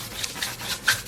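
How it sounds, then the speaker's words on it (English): A hand rubs fabric down onto a board while covering an album case, giving close, soft, repeated brushing strokes in an uneven rhythm. "give this a nice rub"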